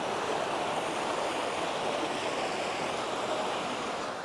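Mountain stream flowing at Catwalk Recreation Area in New Mexico, a steady, full rushing wash of water heard close by, constant and unvaried, with no voices.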